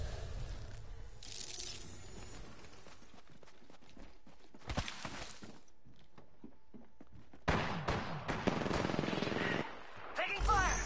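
Weapon fire in the battle royale game Apex Legends, bursts of shots scattered through the clip with louder rapid volleys toward the end, mixed with game sound effects.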